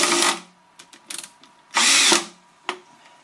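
A power drill driving screws into the corners of a wooden beehive box, heard as loud close whirring bursts with short gaps between, a brief flurry of ratcheting clicks and a final short buzz.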